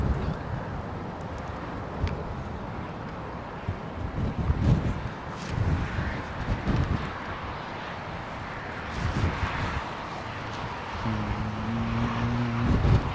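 A jet aircraft at London Heathrow Airport gives a distant, fluctuating roar mixed with gusty wind noise, with a faint steady tone rising near the end.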